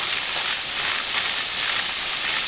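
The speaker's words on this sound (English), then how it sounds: "Give it just a little bit more steam." A steam cleaner fitted with a nylon brush hisses steadily and loudly as it scrubs grime off a stove, a continuous bright rush of steam with no talking.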